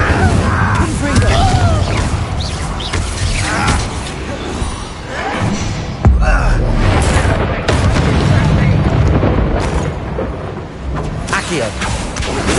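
Confringo fire spells in the Hogwarts Legacy video game burst in dense, loud, rumbling booms that overlap into a nearly continuous roar of blasts and crackling debris, with a voice briefly audible underneath.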